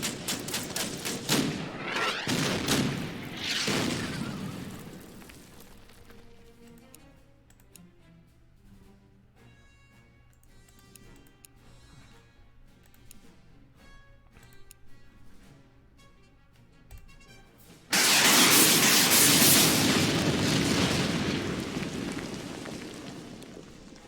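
Artillery fire in the World War II strategy game Order of Battle: Endsieg: several booming shots open the passage, quiet game music follows, and then a long, loud blast of fire rumbles near the end.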